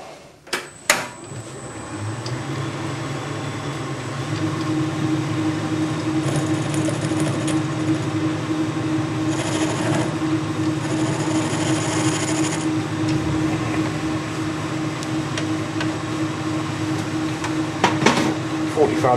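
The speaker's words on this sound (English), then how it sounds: ".45° tool, just put a little chamfer on it" A lathe turns a steel ball while a 45° tool cuts a chamfer, producing a steady mechanical hum and whir with a faint high whine, starting with a few knocks and ending with a couple of clunks.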